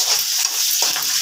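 Onion and green chillies frying in oil with cumin and bay leaf, a loud, steady hiss of sizzling with a brief stir partway through.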